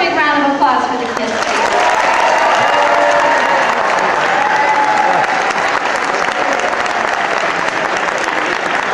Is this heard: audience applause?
yes